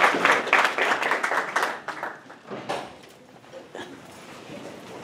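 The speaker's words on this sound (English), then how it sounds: "give them a huge round of applause" An audience claps for two sheriff's sergeants at a business community gathering, a dense burst of applause that fades within about three seconds into quieter room noise.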